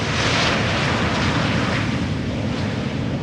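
An Embraer 190 long-range regional airliner arriving at Amsterdam Schiphol's Polderbaan runway on a warm day, a loud steady broadband jet roar with wind noise that holds constant throughout, no voices.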